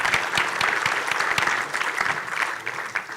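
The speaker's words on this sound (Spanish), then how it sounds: "Pues un aplauso también," An audience at a transport and logistics conference gives steady, fairly close applause, a continuous patter of many hands clapping across the whole span with no speech.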